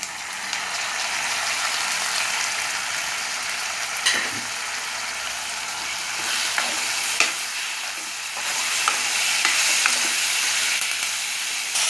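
Mint leaves, ginger and garlic frying in a pan while being stirred well, a bright continuous sizzle with scraping, clicking stirring strokes, close and steady for the whole stretch, no talking.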